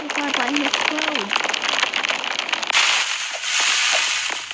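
A button explodes in the Roblox game Don't Press the Button, giving a loud sustained crackling, hissing burst like fireworks that fills the second half, after a brief voice speaking at the start.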